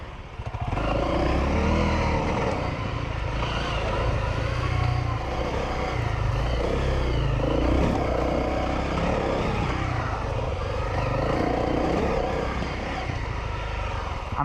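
Honda CRF250L dirt bike riding flowy single trail through bush, a continuous loud engine drone that rises and falls with throttle changes, close to the rider throughout with no talking.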